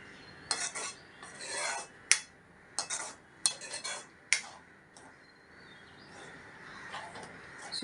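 A spoon scrapes and clinks against a pan while methi mutter malai curry is stirred, several quick bursts of metallic knocks spread over a few seconds, close and fairly quiet.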